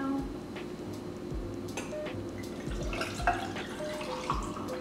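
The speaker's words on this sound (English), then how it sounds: "So I'm just gonna pour that in now." Coffee is poured into a cup of ice at home with a light trickling splash, cubes clinking and ticking faintly, close and quiet.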